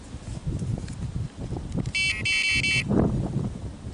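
A radar detector's electronic beeping tone sounds in a short burst of repeated pulses, heard over background noise and low rumbling.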